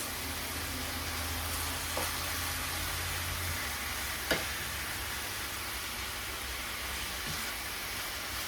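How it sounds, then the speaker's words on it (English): Seasoned chicken frying in a pan on the stove, with a steady low sizzle throughout and a couple of faint clicks and scrapes from stirring. "So I'm just going to stir this."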